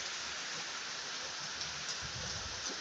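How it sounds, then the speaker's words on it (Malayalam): Heavy evening rain falls in a steady, even hiss that stays quiet and constant throughout, with no voices. "നല്ല മഴയാണ്."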